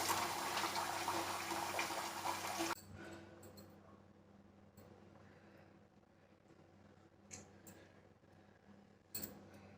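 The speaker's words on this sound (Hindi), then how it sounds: "अब आप चाहे टैप से धो लीजिए ऐसे करके" Running tap water splashes steadily for a few seconds while a face is washed at home, then cuts off, leaving faint drips and small clicks.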